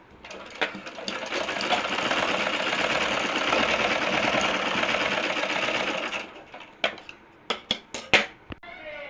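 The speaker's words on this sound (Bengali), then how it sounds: "রাবাটের দুই পাশটা আগে সেলাই করে নিই" Sewing machine running a steady, continuous stitch for several seconds along the sides of an elastic waistband, stopping abruptly and followed by a few sharp clicks and clacks of the machine and fabric handling.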